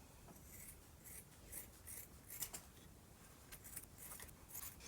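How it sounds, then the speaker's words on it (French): Scissors snip nylon tights into small strips for a tawashi sponge, a series of soft, close cuts and light rustling at a quiet level, with no voice. "je vais couper ces petites bandelettes"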